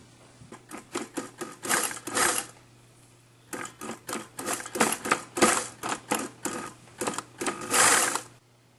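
A sewing machine stitches the seam of a reversible kit skirt in fast mechanical bursts, running in two longer sets of short stop-start runs with a brief pause between them, close and clear with no talking.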